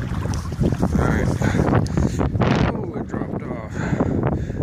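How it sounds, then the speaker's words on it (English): Gusty wind buffeting outdoors with bursts of noise rising and falling, over watery background sounds and a voice speaking. "It's awful windy."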